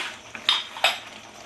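A metal spoon stirring chana dal with aubergine in a pot, making two or three quick, close scraping clinks over a faint background hum.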